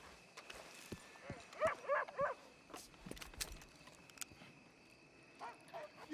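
Puppies in Red Dead Redemption 2 give scattered yips, barks and whimpers, a cluster in the first half and a few later, fairly faint over game ambience.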